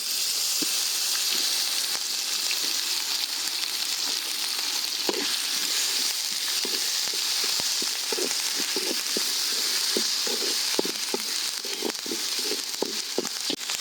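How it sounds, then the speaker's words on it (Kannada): Chopped onions fry in a pan for a goat tripe curry, a steady bright sizzle with scattered crackles and occasional stirring scrapes, close and continuous. "ಚೆನ್ನಾಗಿ ಕೆಂಪಗಾಗೋ ತನಕ ಚೆನ್ನಾಗಿ ಫ್ರೈ ಮಾಡ್ಕೊಬೇಕು ಈರುಳ್ಳಿನ"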